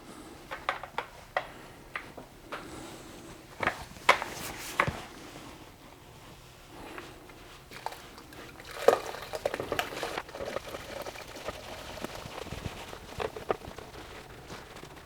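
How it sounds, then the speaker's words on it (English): Thick mixed plaster poured into two slip casting molds, with quiet, intermittent liquid glugs, drips and small knocks at close range, no talking. "so I'll go ahead and pour it into both molds."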